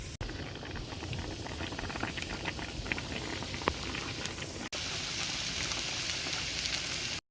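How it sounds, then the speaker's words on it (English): Water in a pot on the stove bubbling and hissing at a steady rolling boil, a continuous close crackle and fizz with a brief cut partway through. "I also have my water on, and I'm waiting for it to boil."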